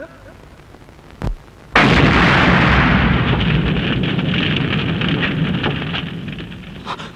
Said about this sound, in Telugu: సార్, నాయకురాలు మీనాదేవి గారిని చెప్పడానికి ఇతనే మైకులో బాంబు పెట్టాడు